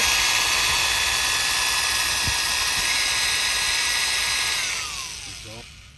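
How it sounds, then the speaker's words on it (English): A power drill bores into a Toyota RAV4 lock with a steady, high-pitched whine. The tone holds for several seconds, then winds down as the motor stops. "or I can drill through here."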